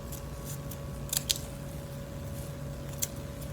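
Scissors snip paper for a Polish paper-cut design, a few quiet, short cuts, two close together and one later, over a faint steady hum.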